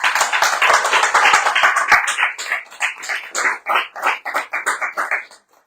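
A live studio audience at a French radio variety show claps warmly, dense at first, then thinning into scattered, uneven claps that fade out near the end.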